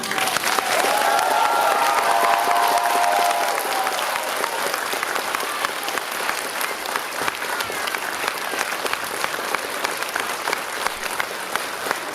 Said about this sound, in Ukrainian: І ще раз ваші овації.